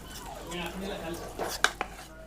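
A multani mitti soap mixture is stirred in a bowl: soft scraping swirls followed by two sharp clinks of a spoon against the container, close and fairly quiet.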